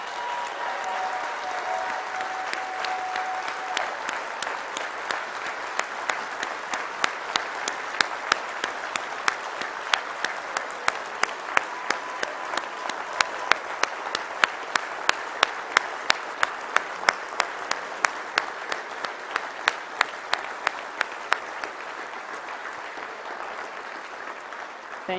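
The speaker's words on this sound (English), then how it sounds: "deeply grateful applause" An awards-ceremony audience at the Canadian Football League honours gives sustained applause, a steady dense crowd of clapping lasting over twenty seconds with rhythmic sharp claps building through the middle, faint voices early on.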